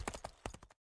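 Hooves of a horse clip-clopping in a quick gallop rhythm, about eight close, crisp beats over one second that stop abruptly, used as an audiobook sound effect.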